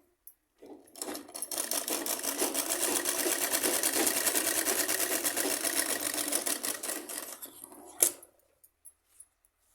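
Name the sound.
sewing machine stitching a salwar seam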